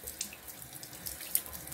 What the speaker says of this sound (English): Now for the last rinse, I use cold tap water.